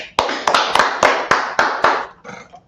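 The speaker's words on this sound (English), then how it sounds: "Clap it up for Preaching Officer Paratazar." A small gathering in a Harlem meeting hall claps for a preaching officer. Sharp, close hand claps land in an uneven rhythm of about eight distinct slaps, then fade out.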